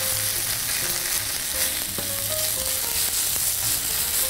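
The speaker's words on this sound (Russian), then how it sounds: "И отправляю картошку на сковородку." Grated potatoes frying in preheated oil in a skillet give a steady, close hiss and sizzle throughout, with small crackles and no talking.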